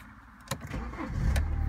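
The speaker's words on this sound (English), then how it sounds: "Let's get the car started." A BMW 320d automatic with a 181 bhp diesel is started with a push button: a brief click and whir, then the engine catches and settles into a steady low idle, heard from inside the car.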